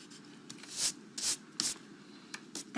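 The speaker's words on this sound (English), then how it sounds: "We're just going to take our eraser and erase that bottom line" An eraser scrubs a pencil line off paper in a run of short, uneven rubbing strokes, about half a dozen soft, close, dry swishes with brief pauses between them.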